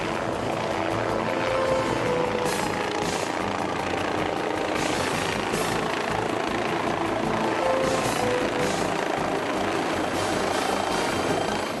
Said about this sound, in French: l'acheminement de 12 mètres cubes de béton par hélicoptère en plus de 200 rotations.